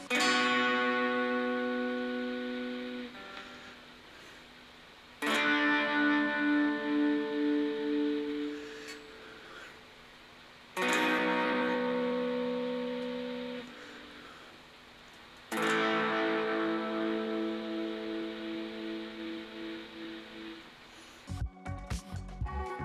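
Four sustained electric guitar chords ring out one after another, each struck and left to decay, slightly distorted, with a brief scratchy strum at the end.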